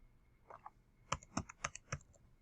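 Typing on a computer keyboard, with about six or seven crisp, close keystrokes in a quick burst after a few softer taps, no voices.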